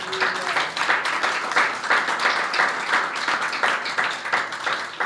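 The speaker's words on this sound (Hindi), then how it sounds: "यीशु के लिए जोरदार तालियां बजाएं।" A Palm Sunday church congregation claps loudly and steadily in a fast, rhythmic wave of applause that fills the room for several seconds.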